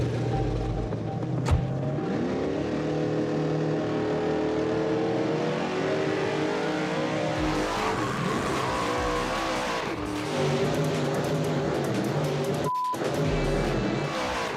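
A drag race car on a test run launches with a loud, rising engine roar and tire squeal, then revs through gear changes that climb and fall before cutting off abruptly, with no talking over it.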